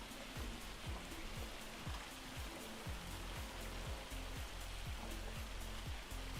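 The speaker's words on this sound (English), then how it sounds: "That was really raining." Steady rain pours in Farming Simulator 25, a dense, even hiss that runs unbroken for the whole stretch, with a regular low thudding pattern beneath it, loud and alone with no talking.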